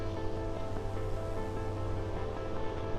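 Wind gusts through a vegetable garden with bean plants being pushed over, a faint, steady rushing wash with soft buffeting and a low hum beneath, no talk.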